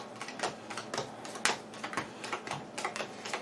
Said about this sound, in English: We'll do our quick pile shuffle.